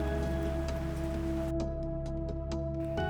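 Steady rain patter over Hong Kong city, with scattered droplet ticks over a constant low hum, continuous and fairly close, no voices.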